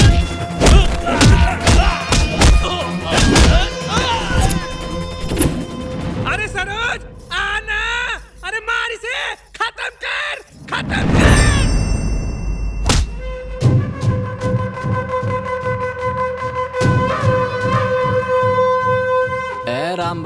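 Blows struck in a Hindi film fight scene, repeated heavy thuds and smacks with crashes, under shouting voices and dramatic music.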